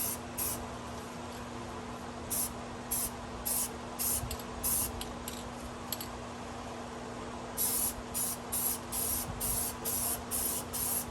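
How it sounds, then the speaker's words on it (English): Aerosol spray can spraying onto a truck part during an axle replacement, delivering several loud, close hissing bursts of varying length separated by short pauses, with a steady fan hum underneath and no talk. "This stuff sprays really good"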